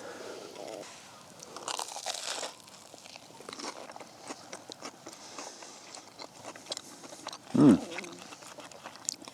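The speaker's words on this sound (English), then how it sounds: "Certainly got some crunch to it." Someone bites into a crunchy camp breakfast topped with melted cheese and mustard, cooked with a very dark underside, at a campsite in the Waitākere Ranges; irregular crisp crunches and chewing, with brief rustling and a louder bite near the end.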